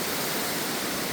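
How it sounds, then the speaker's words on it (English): A river in dense Costa Rican rainforest rushes steadily, a loud, unbroken broadband wash of flowing water filling the whole stretch with no voices. "See the river is flowing down this side"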